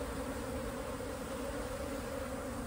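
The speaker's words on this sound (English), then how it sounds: "I'm getting a good bunch of bees on the entrance" A swarm of honey bees gathering at the entrance of a hive box, making a dense, continuous buzz that stays steady and close throughout.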